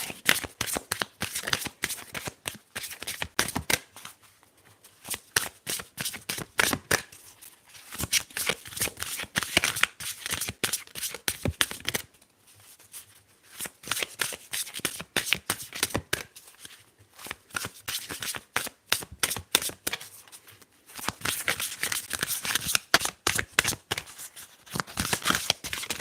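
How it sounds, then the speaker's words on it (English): Tarot cards are shuffled in quick, crisp riffling bursts with short pauses between, close and clear, with no talking over them. "Alright, let's shuffle."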